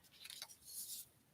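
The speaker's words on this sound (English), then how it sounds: "I'm gonna cut this little lion guy down too" Scissors cutting out a small paper lion for a handmade card, a few quick snips close up, soft and faint, with no talking.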